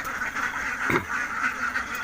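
Ducks kept for eggs on a mixed-farming plot forage outdoors and give off a steady nasal quacking chatter, moderately loud, with one sharper thump partway through.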